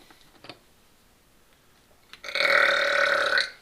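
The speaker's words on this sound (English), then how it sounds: "Burping." A loud, drawn-out burp rumbles for over a second after a few faint clicks and soft handling sounds nearby.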